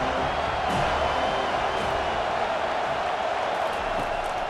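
A stadium crowd roars in the American football video game NCAA Football 25, a steady wall of cheering and noise at a Georgia Tech vs. Florida State game, with no clear speech over it.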